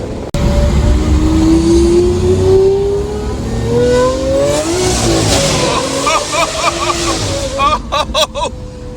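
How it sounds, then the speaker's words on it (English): A Lamborghini Aventador SV with a Brilliant exhaust doing an all-wheel burnout, its engine revving loud and close with rising and falling pitch and rapid crackling bursts near the end, under excited talk. "I think we got a little bit of all-wheel burnout right there"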